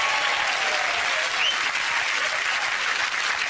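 Studio audience on a British TV chat show applauding steadily throughout, a dense, loud wash of clapping with a little cheering and no talk over it.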